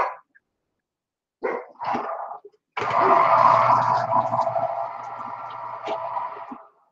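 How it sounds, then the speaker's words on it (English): A dog named as a barking dog sounds off in a kitchen during baking, with a short burst of barks followed by a longer, sustained loud stretch of vocal noise that fills the rest of the moment. "George, what are you barking at?"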